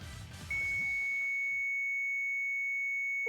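A steady electronic alarm tone from the video game Sweet Fuse, a sustained pure beep that starts sharply and holds unbroken for nearly three seconds after a brief burst of game noise.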